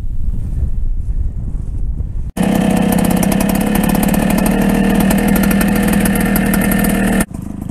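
A small engine running after its mixture screw and idle have been adjusted. It bursts in suddenly and loud, holds a buzzing, steady-pitched drone for about five seconds, then cuts off abruptly against quieter background wind.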